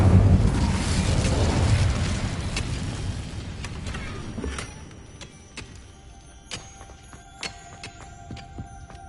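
Incendio fire spell cast in the Hogwarts Legacy video game: a loud, rumbling burst of flame sound that fades over a few seconds into quieter ambience with sparse ticks and tones.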